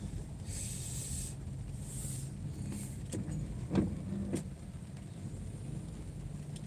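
Steady low road traffic in a jam on a flooded stretch of Jalan Sultan Alauddin in Makassar during rain, a constant rumble with a few brief hissing swishes and soft knocks nearby.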